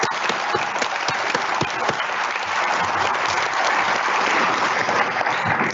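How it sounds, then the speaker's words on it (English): A large crowd at a university December commencement gives the graduating students a sustained, dense round of applause that holds steady and loud throughout. "Let's give them a round of applause."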